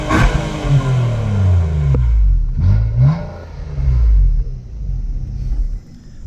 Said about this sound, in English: actually let me rev all the way to 7 grand